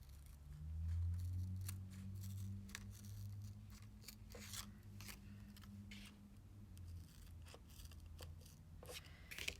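Scissors snip through card, cutting it into quarters for a butterfly art card kit, a series of short crisp cuts close by over a low steady hum.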